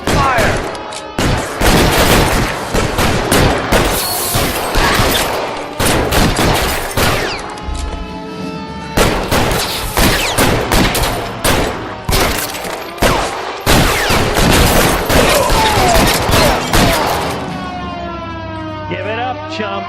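Bursts of gunfire crack through a shootout in the video game L.A. Noire, loud and dense for most of the stretch, with a siren wailing and voices shouting under the shots.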